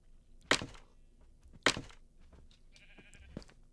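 A Minecraft sheep gives a short game bleat near the end, between two sharp loud thuds, against a quiet background.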